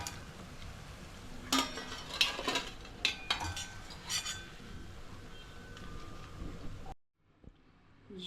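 Methi gota fritters fry in hot oil, with a bubbling sizzle under clinks and scrapes of a utensil in the pan. The sizzle then cuts out to near silence.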